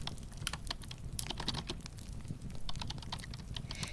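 Rapid clicking keystrokes on a computer keyboard run in an uneven, continuous patter at close range, soft and alone.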